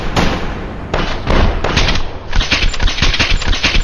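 Enemy gunfire in a video game plays as loud, dense bursts of rapid shots and thumping impacts, continuous and close with brief gaps between volleys.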